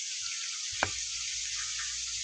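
Turkey wings fry in hot oil with a steady, bright sizzle throughout, broken once by a single soft knock; no one speaks.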